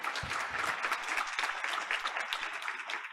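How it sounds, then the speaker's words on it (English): Steady, dense clapping from an audience at a board of education meeting, continuous and fairly loud throughout the short stretch. "Let's give her another round of applause."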